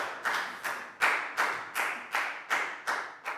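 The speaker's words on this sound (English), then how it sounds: "And a big round of applause for everyone" A Year 4 maths class claps for everyone in a slow, rhythmic unison beat, about nine sharp group claps evenly spaced and each fading quickly, with no talking in between.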